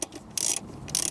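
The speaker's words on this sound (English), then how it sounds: "we're installing the lower bolt on the driver's side of the factory head unit" Ratchet clicks while tightening the lower driver's-side bolt behind the factory head unit of a 2012-2015 Lexus RX, three short bursts of quick pawl clicking, close and crisp.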